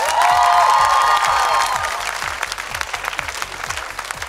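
An audience at a televised talent show bursts into loud applause for the jury members, a dense wash of clapping with some cheering and whistles that slowly thins out.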